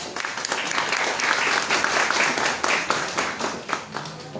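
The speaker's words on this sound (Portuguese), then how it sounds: "uma salva de palmas para ela" Audience applause at an advocacy training course for volunteers, a close, lively round of clapping from a modest group with uneven individual claps standing out, tapering slightly toward the end.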